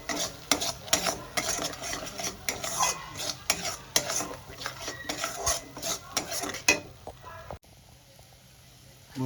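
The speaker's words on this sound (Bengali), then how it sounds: "এবার ভালো করে কষাতে থাকবো" Spices sizzle and get stirred in a pan for a mildly sweet-hot vegetarian potato and pointed gourd curry, with a spatula scraping and clinking in quick strokes for about seven seconds before the sound drops to a quiet lull.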